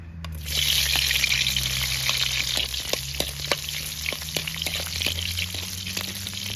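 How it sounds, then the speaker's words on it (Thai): Chopped onion hits hot oil in a big wok and fries with a loud, steady sizzle, broken by scattered clicks and scrapes of stirring. "ใส่หอมหัวใหญ่ลงไปแล้วนะครับ"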